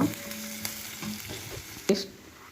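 Onion and garlic sizzling in hot tempering oil, a loud close crackle at the start that settles into a steady fry, broken by a sharp clink of a utensil.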